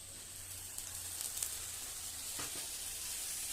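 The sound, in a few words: paneer curry sizzling in pan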